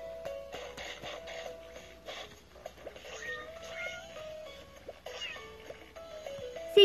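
Several short, high cat meows from a video game come in quick succession over a faint, busy background of soft clicks and shuffling, fairly quiet overall.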